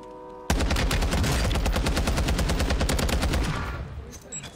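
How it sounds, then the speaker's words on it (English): Rapid automatic gunfire in a battle royale video game: one sustained burst of dense, evenly spaced loud shots that lasts several seconds before thinning out, with no voices over it. "He's getting shot at by somebody right here."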